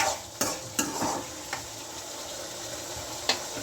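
Coriander-cumin powder stirred in oil in a frying pan while making Gujarati-style sev bhaji: a low, quiet sizzle broken by a few sharp scrapes and taps of a spoon against the pan.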